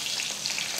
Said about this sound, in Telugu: పచ్చిమిర్చి ఆయిల్లో వేగి ఇదిగోండి వైట్ స్పాట్స్ వస్తున్నాయి కదా.